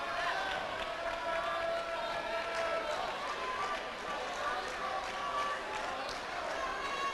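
Spectators at a boys high school basketball game in Denver react to an air ball, a steady crowd roar with scattered shouts and whistles filling the gym throughout.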